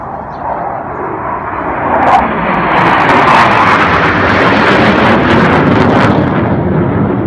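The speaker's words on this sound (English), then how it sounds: "watched a little bit of the Air Force flyover show, which was awesome" Israeli Air Force jets in an Independence Day flyover, a loud, broad roar that swells and holds steady as the aircraft pass overhead.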